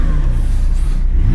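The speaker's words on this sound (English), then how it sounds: "Just rev it up." A supercar engine revs hard at close range, one of a Ferrari 296 GTB, McLaren 750S, Lamborghini Huracán Performante or Porsche 911 Turbo S lined up for a drag race, a loud continuous roar with rising pitch toward the end.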